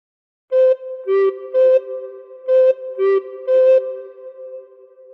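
A phrase from Frère Jacques played solo on a recorder: six tongued notes alternating between two pitches in a steady, moderate rhythm, each with a crisp attack, with the last note held and left to ring out.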